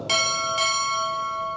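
At a Navy chief petty officer pinning ceremony, a ship's bell is struck twice in quick succession, the bright metallic clangs overlapping into a long, steady ringing decay with nobody speaking.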